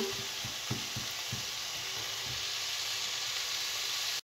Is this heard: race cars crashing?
no